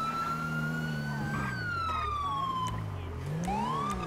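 A police car siren wails continuously in GTA roleplay, the pitch sweeping up and down steadily. It is loud and close, and a voice speaks briefly over it.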